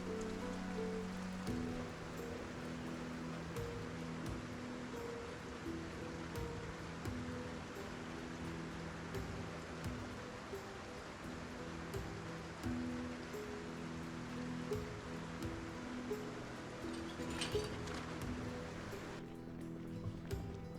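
Rain falls steadily in the video game Project Zomboid, a constant dense hiss with faint patter, worsening weather heard alone and evenly throughout, cutting off abruptly near the end.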